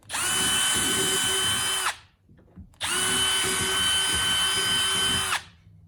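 A power drill whirs loudly in two sustained bursts with a brief pause between, the motor running steady and high-pitched as it bores pilot holes for kayak accessories.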